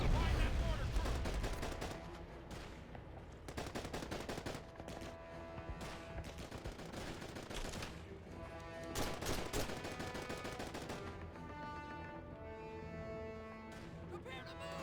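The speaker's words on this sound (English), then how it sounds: "Machine gun up there." Sustained machine gun fire in the World War II shooter Call of Duty 2, rapid dense bursts under a constant loud battle din with explosions and shouting soldiers' voices.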